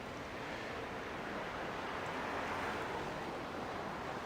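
Steady broadband rush of water from a river in Kurume city, heard on an evening stroll through the backstreets, a continuous even wash with no talk over it.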